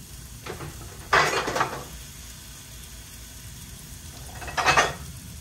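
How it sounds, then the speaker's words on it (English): A knife saws through croissant bread on a board in two short bursts of crisp, scratchy cutting, close and fairly quiet, with a pause between them. "I'm going to go ahead and cut me some slices to start dipping"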